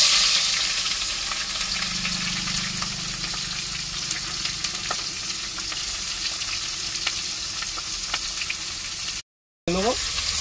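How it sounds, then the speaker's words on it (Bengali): Onions and chopped green chillies fry in hot oil in a pan with a steady, close sizzle and occasional stirring scrapes, followed by a brief gap near the end. "পেঁয়াজটা লাল লাল করে ভেজে নেবো"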